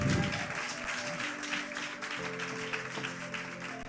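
Church congregation applauding and cheering during a French-language prophetic worship service, a dense steady clapping wash with crowd voices mixed in, loud and continuous throughout.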